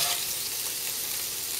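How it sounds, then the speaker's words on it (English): Meatballs browning in a frying pan, a close, steady bright sizzle with soft shifting as they are nudged around. "Now very delicately you're going to try to maneuver your meatballs around the pan."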